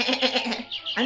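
Farm sheep bleating in a countryside setting, a wavering, nasal animal cry repeated in quick pulses, close and fairly loud with a short break before it resumes.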